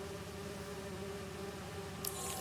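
Steady low buzzing of bees in Marvel's Spider-Man 2, a faint continuous drone with a constant hum, a brief brighter hiss near the end.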